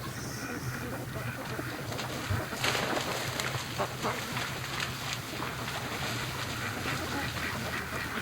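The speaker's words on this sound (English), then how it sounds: "now he's freaking the ducks out" Muscovy ducks on a lake quack and call steadily, unsettled by a dog, the calls dense and continuous over a constant outdoor background hiss.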